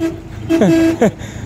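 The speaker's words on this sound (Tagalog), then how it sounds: "Yung tunog ng busina, taho." A taho vendor's horn gives two short, wavering toots close by, the first longer than the second.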